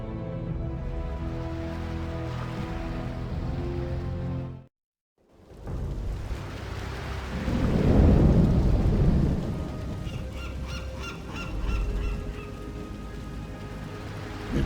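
A storm in Warcraft III, with steady rain hissing and a brief cut to silence, after which a deep rolling thunderclap swells loud and fades back under continuing rainfall.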